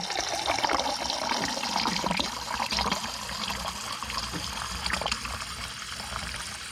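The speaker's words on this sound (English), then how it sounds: "water come out really good." Water streams from the dispenser of a Samsung RF261BEAEBC refrigerator while a new water filter is being flushed, a steady broadband trickling and splashing that runs unbroken and fairly close for several seconds, with no voices.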